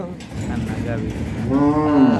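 A dairy cow on a Bangladeshi farm gives one long, loud, close moo in the second half of the clip. Low farmyard murmur fills the time before it.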